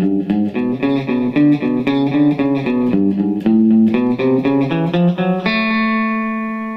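An electric guitar lick in second position played at a slightly quicker tempo runs as a fluid stream of clear, sustained single notes with light effects, ending on a long ringing chord that fades out, close and without talk.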